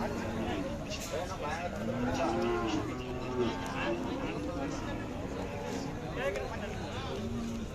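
Dairy cattle at a busy Sangola livestock market, with cows mooing repeatedly at mid distance amid crowd chatter and someone talking close by.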